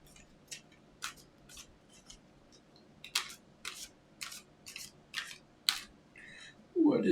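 A deck of playing cards being shuffled, with a string of crisp, quiet riffling snaps repeating at a steady pace, closing with a fuller rustle at the end.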